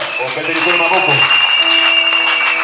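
A church congregation claps in praise of the Lord, a steady broadband wash of applause under sustained musical tones and voices for about three seconds.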